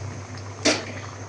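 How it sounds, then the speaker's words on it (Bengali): Hot water poured into rice frying in a pan for bhuna khichuri gives one short, sharp hissing splash over a steady background hum. "গরম পানি দিলাম।"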